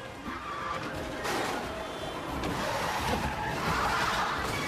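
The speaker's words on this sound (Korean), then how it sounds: "뉴욕 한복판 자동차 추격전까지" Cars roar and tires skid during a car chase through the middle of New York in The Bourne Ultimatum, a loud, continuous wash of engine noise and squealing rubber with no talking.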